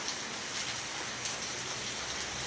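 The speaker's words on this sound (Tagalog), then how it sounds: "Lakas na ulan na oh." Heavy rain pours steadily over a front yard vegetable garden during a storm, a dense, even hiss of countless drops that stays close and unbroken.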